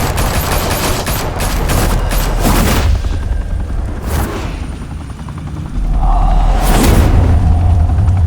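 Heavy automatic gunfire rattles through a shootout in the Batman Telltale video game, with a helicopter drone and booming bursts layered over it, loud and close, fading briefly before surging back.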